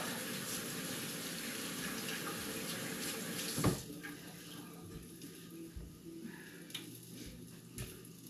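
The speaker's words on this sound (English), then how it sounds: "I'm gonna wash these white hands again." Hands are washed under a running kitchen tap, water splashing steadily into the sink at close range, with a short knock partway through and quieter trickling and occasional clinks afterward.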